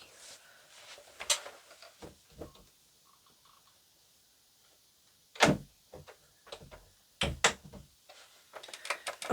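A door is opened to let a dog out indoors: scattered knocks, clicks and a few sharper bangs spread through a quiet room, with long silent gaps between them.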